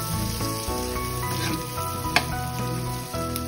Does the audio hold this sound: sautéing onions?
yes